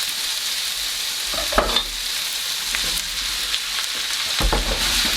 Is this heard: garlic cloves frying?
yes